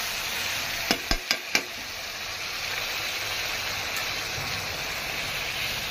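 Vegetables fry with a tempering of mustard seeds and bay leaf, a steady close sizzle with four quick sharp knocks of a spoon against the pan early on.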